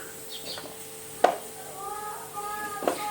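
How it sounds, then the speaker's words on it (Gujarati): A knife cuts 100 grams of paneer into strips on a board, with two or three sharp isolated chops spaced about a second and a half apart over faint room noise. "તો 100 ગ્રામ પનીર છે એનું આપણે કટ કરી લઈશું"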